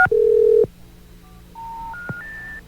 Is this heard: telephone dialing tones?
yes